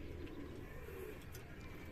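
A pigeon perched low on a rooftop loft coos softly at a distance, its calls faint against a steady outdoor background hum.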